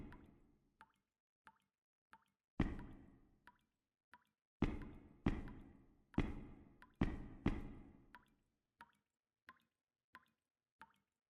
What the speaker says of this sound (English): water drop or stuff like that.